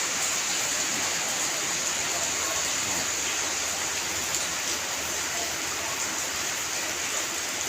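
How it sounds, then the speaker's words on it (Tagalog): Floodwater streams steadily toward a house, a continuous broadband rush of moving water that stays loud and even throughout with no clear breaks. "Ito yung tubig papunta sa amin guys."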